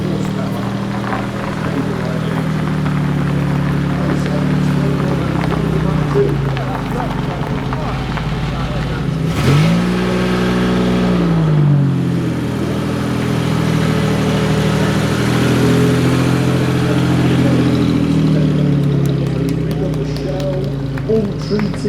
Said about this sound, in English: excellent, we have the XK150 running